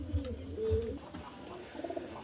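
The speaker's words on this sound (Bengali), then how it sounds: "2 পিস সিঙ্গেল আমি কবুতর দেখাচ্ছি" Pigeons coo softly and nearby, low repeated throaty calls in a slow rhythm, with faint background noise.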